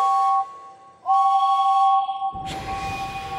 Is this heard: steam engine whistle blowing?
yes